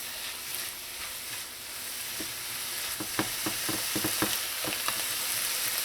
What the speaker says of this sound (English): your cumin, celery salt, and paprika, and give this a mix.